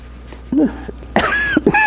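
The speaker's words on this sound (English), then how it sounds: "I keep coughing in their ears." A couple of short, harsh coughing bursts sound close by, separated by a brief pause.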